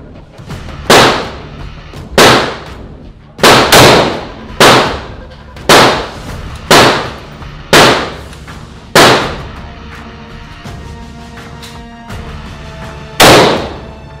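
Heavy weapon fire in the video game Modern Warfare comes as a series of about ten loud, sharp single shots at a spaced, fairly regular rhythm. Each report has a decaying tail and one final shot follows after a pause.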